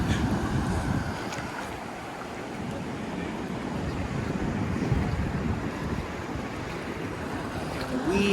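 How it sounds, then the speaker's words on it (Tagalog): Ocean waves at Magpupungko Island, Siargao, a steady broadband wash of surf with wind buffeting the microphone, continuous and fairly close throughout. "The waves are very nice."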